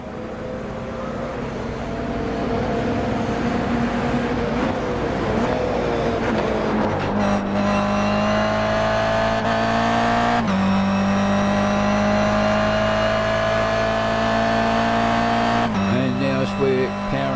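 A race car engine in a wet Forza Motorsport 6 race at Bathurst, loud and continuous as it powers out onto Mountain Straight, its pitch rising steadily through the gears with sharp shift breaks, under talk.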